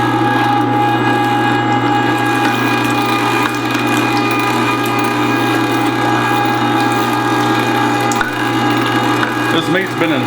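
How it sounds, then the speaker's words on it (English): Meat grinder running steadily, grinding partially frozen pork for sausage, a loud continuous motor hum with rattling, churning texture throughout. "I'm going to start grinding some of this pork now."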